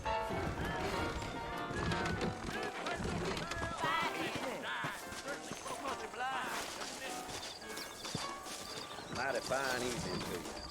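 Horse hooves clip-clop steadily in Red Dead Redemption as saddled horses move along in New Ulster, a continuous rhythmic trotting woven into a busy game soundscape with music and voices throughout.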